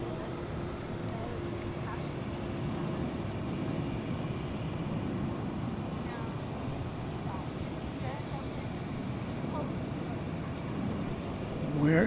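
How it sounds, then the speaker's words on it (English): An American Airlines Boeing 737 on approach at DFW Airport at night gives a steady, distant low jet rumble that holds evenly throughout and swells slightly at the very end. "an American Airlines 737 coming your way"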